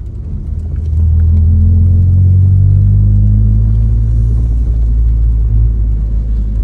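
A 1994 Honda Prelude rolls along the road, its engine droning steadily with a deep continuous rumble that rises as it pulls away and then holds, heard from inside the cabin with no talking.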